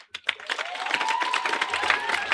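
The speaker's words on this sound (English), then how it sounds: "Come on, another clap for Clarice" Applause at a class of 2026 graduation ceremony starts with a few scattered claps and quickly builds into steady, moderately loud clapping from the crowd, with faint voices underneath.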